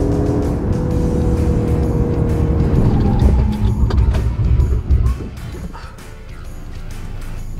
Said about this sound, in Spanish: Ahora vamos a hacer una pequeña prueba de frenado,